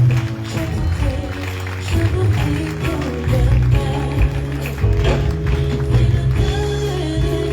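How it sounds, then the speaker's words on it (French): Congregation clapping in faith during a church worship service, rhythmic hand claps over loud music with a heavy bass beat, steady and continuous. "Give a clap of faith to the Lord Jesus."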